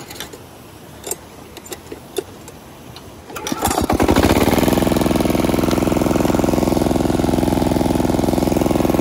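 A farm machine engine sputters and catches after a few quiet clicks, then settles into a loud, steady idle as it warms up.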